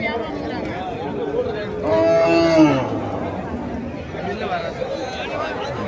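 Country cart bulls from the Javadhu hills stand at a busy livestock market, with one brief mid-pitched moo rising out of steady crowd chatter and nearby talking.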